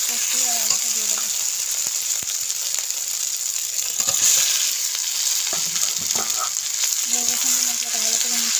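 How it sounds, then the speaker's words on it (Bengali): Cauliflower and potato fry in a ground spice paste and are stirred, giving a close steady sizzle with scraping strokes of a spoon and faint voices underneath. "মশলাটা ভালো করে মিশিয়ে নেবো, আর কিছুক্ষণ কষিয়ে নেবো"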